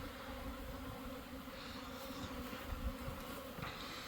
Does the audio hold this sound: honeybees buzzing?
yes